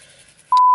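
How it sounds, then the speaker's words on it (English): A single steady electronic tone, like a phone ring or beep, sounds loud and close for the last part, after a short stretch of quiet room noise. "Hello, your phone's ringing!"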